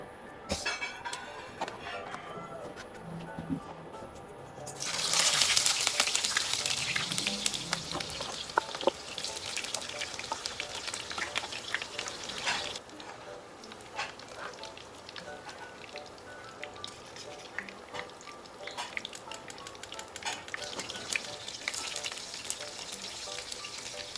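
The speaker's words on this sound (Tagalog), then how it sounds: "Pakry po muna natin itong talong." Eggplant (talong) frying in a pan hisses into a loud, rain-like sizzle a few seconds in, then settles into steady crackling frying. A few brief scrapes and clinks sound over it, with no talking.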